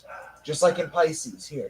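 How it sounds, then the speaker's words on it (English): A dog barks and yips nearby in a home, short sharp calls mixed in with someone talking steadily over them. "Sorry about the dog"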